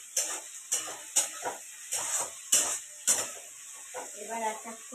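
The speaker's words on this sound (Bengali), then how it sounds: "টমেটোটা ভাজতে থাকবো।" Tomatoes fry in oil in a pan as a soft sizzle runs beneath a series of regular stirring scrapes, roughly one every half second, close and fairly quiet.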